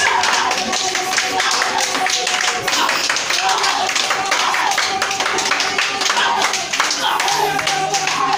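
Women clap their hands hard and steadily during a lively worship service, the dense crowd clapping continuous and loud with voices mixed in throughout.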